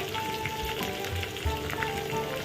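Green chillies, curry leaves and asafoetida fry in hot oil for ven pongal, giving a steady, dense sizzle that runs unbroken throughout with no voices.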